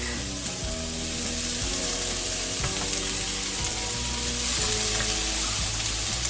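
Chopped peppers and garlic hit a hot pan for a Caribbean cow foot stew, sizzling loudly and continuously, with frequent knocks and scrapes of a utensil against the pan.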